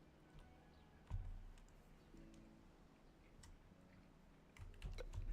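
Quiet, rapid key clicks on a computer keyboard tick along steadily with a few heavier thumps and brief pauses, close by with no talking.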